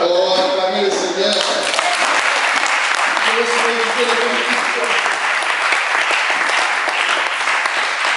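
A church congregation applauds loudly and steadily throughout, the clapping dense and continuous, with a voice and some tonal sound audible at the start before the applause takes over.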